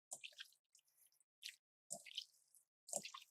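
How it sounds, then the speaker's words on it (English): Hands mix and press seasonings into raw chicken for coq au vin, giving quiet wet squishing and dripping sounds in short separate bursts with silent gaps. "Press all the seasonings together in it."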